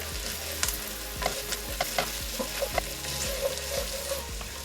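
Potatoes sizzle and fry in a pot of Jamaican curried shrimp, a steady close hiss broken by scattered crackles and short stirring scrapes, with no talking.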